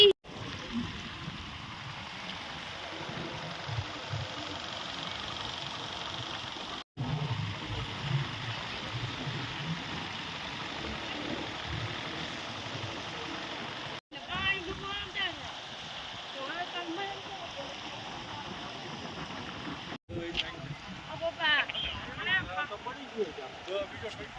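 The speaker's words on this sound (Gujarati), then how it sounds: "ઉપરથી પાણી આ કેનાલનું ફૂલ જ મોટા પ્રમાણમાં પાણી જઈ રહ્યું છે" Floodwater surges over the Memka canal after heavy rain, a continuous roaring rush of water heard close and steady, broken by a few abrupt cuts.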